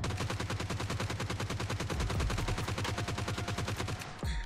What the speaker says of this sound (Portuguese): De novo, vamos dar o tiro lá pra vocês verem